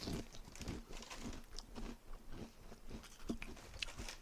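Light, airy chips made from milk and whey protein being chewed, soft repeated crunches in an irregular rhythm, close but quiet.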